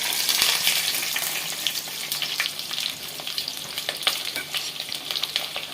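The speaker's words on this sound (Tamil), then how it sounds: "வெங்காயம் நல்லா வதங்கட்டும்" Shallots and garlic frying in oil for a village-style fish curry give a bright, steady sizzle, with soft scraping stirs now and then, close and alone.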